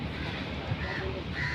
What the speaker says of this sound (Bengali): এই যে কাক আসছে, এখানে বসে থাকে